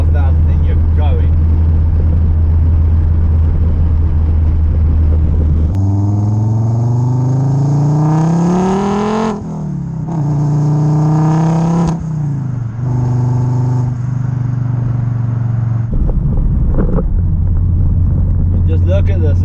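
Turbocharged Ford XR car accelerating on the road, its engine note climbing steadily through several gear pulls with a loud, droning rev rise and brief drops between shifts, under a steady in-cabin hum and occasional talk.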